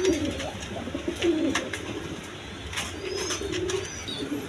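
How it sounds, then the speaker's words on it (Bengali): A pair of Gorra pigeons coo softly and intermittently at a farm, close but low in level over faint background noise. "বন্ধুগণ এখানে এক পেয়ার গররা কবুতর আছে দেখেন"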